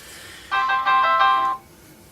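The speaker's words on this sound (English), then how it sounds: "now that we're interrupted by the phone call" A phone ringtone chimes for about a second during an ongoing call, a bright repeating electronic melody that is moderately loud and stops abruptly, with no talking over it.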